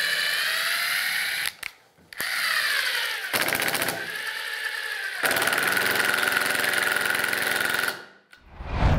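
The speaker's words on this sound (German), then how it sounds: "Der Schlagschrauber bewegt sich überhaupt nicht in diese Richtung, weil der Schlagmoment linear auf die Schraube übertragen wird." A cordless impact wrench drives a screw in rapid hammering bursts, a loud buzzy rattle that stops and restarts several times with short pauses between runs.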